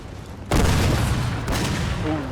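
Cannons firing canister shot in Napoleon Total War: a sudden loud boom then a sustained crackling roar of volleys, with a second burst about a second later, all near and heavy.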